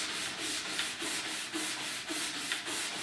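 A stiff nylon brush scrubs a ski freshly waxed with Swix Cera F, making quiet, regular back-and-forth rasping strokes about twice a second, close up and steady.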